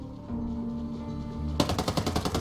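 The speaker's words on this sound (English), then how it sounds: "I'm gonna start shooting before they get there." In Ghost Recon Breakpoint, automatic gunfire starts abruptly after a low ambient hum, a rapid loud burst of evenly spaced shots continuing to the end with no voices.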